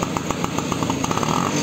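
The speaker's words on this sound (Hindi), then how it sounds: "भाई अलग ही इसकी आवाज़ हो रही है एकदम फटफटी ऑटो" A modified auto-rickshaw engine with a loud aftermarket silencer runs close by, giving off a rapid, rough popping exhaust beat that stays constant throughout.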